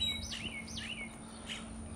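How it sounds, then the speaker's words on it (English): Birds sing outdoors: a few clear, sweeping chirped phrases repeat at a steady pace against a quiet background hum, fairly close and alone without any talking. "Oh, don't the birds sound beautiful?"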